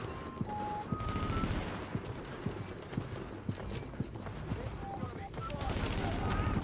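Gunfire in the video game The Division crackles as rapid bursts of shots under a steady game soundscape, with a voice cutting in now and then.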